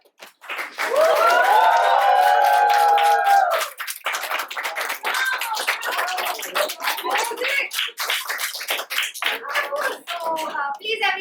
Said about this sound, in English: once again, please give a huge round of applause for Nara.